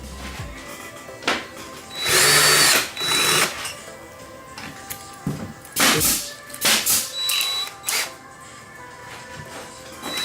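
Power drill boring two ventilation holes into the wooden bottom of a birdhouse, heard as a few loud bursts of whirring with quieter workshop handling sounds in between.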